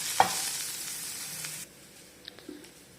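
Vegetables are stirred and fried in a pan for rava dosa batter, with a loud, close sizzle that cuts off abruptly after a second and a half, followed by near quiet and a few light utensil clinks.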